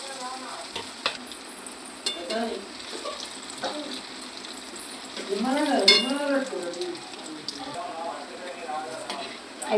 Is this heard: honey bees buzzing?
no